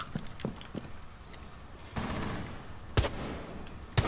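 Gunfire in Rainbow Six Siege, with a few scattered shots early, a sustained rattle from about two seconds, and sharp loud bursts near three and four seconds. No one talks.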